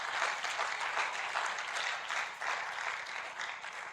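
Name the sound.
audience applause at a lecture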